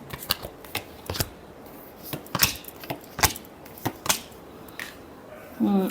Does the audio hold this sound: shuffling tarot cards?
yes